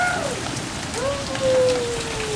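Steady rain pattering on surfaces outdoors during a sun shower after a hail storm in Richmond Hill, a dense continuous hiss with a faint tonal whine passing through.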